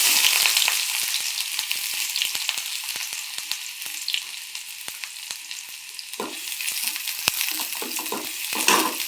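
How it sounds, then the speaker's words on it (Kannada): Green chilies frying in a pan of hot oil for a methi bhaji, a bright continuous sizzle with crackling pops and occasional stirring scrapes, up close, no one talking. "ಹಸಿಮೆಣ್ಸಿಕಾಯಿ ಅದನ್ನು ಹುರ್ಕೋಬೇಕು."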